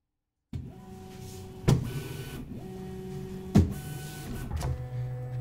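A 3D printer's bed moves as the Z axis homes at 25 mm per second, a steady motor whine broken by two sharp clunks and pitch changes, heard close and alone.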